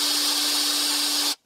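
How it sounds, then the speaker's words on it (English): A small electric drill with a bit slightly narrower than a wire bores a hole in the base of a tin-can steam engine. It gives a steady, loud whirring hiss with a constant hum underneath, then cuts off abruptly near the end. "drill a small hole in the base in order to accommodate the wire stand"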